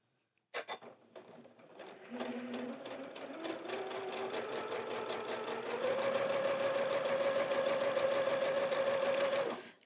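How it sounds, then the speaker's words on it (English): Sewing machine stitching a sunflower quilt, starting with a few slow stitches, then settling into a steady, fast, even whir that speeds up midway and runs continuously until stopping. "All right, let's sew it."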